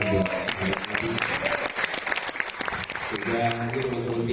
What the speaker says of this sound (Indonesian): Boleh tepuk tangan buat sahabat Abi.